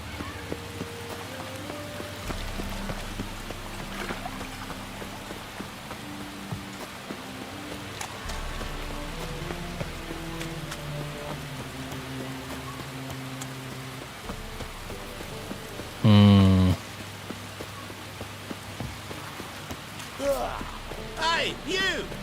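Steady rain patter runs throughout beneath a game's musical score and occasional spoken lines, with a brief loud burst partway through.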